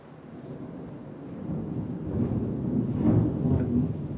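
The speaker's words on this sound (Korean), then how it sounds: "천둥." Rolling thunder from a storm outside a church during a Korean sermon, a low continuous rumble that swells louder toward the end, heard alone without talk.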